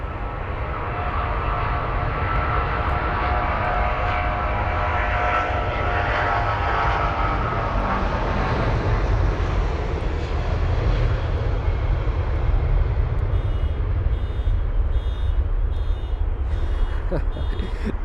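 A 23-year-old American Airlines Boeing 777-200ER jet taking off from London Heathrow, its broad, loud engine roar rising steadily and holding for the whole stretch, with faint beeping in the background.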